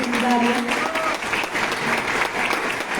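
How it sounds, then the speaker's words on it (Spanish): Audience applause at a conference on Mexican education and textbooks, a steady burst of clapping from a seated crowd that holds at an even level, with a voice speaking over it. "un fuerte aplauso para Enrique en telesecundaria"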